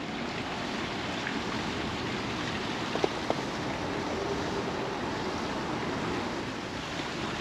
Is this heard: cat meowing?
no